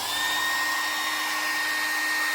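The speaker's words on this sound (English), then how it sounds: "I just want to try the air dryer." A 1,000-watt hair dryer runs on full power and full heat aboard a narrowboat, a steady close whooshing blow with a thin high whine, unbroken throughout and without talking.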